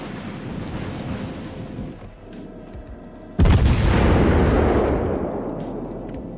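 World of Warships battleship guns in the Strasbourg campaign: after a low rumbling ambience, one massive salvo booms out close and loud, then rolls into a long, fading roar.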